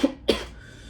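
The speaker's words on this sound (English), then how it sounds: "Just talking so much makes me cough." Two quick, close coughs from a man, a sharp pair of bursts spaced about a quarter second apart, followed by quiet room tone.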